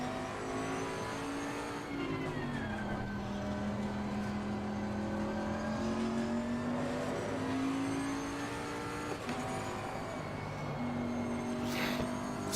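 Bentley Continental GT3 race car engine at Zandvoort in Assetto Corsa Competizione, droning steadily at high revs with upshifts and downshifts, rising and falling in pitch, heard alone throughout.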